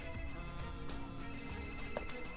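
A mobile phone rings indoors, a steady electronic ringtone with a pulsing repeated pattern, moderately faint and filling the moment alone without speech.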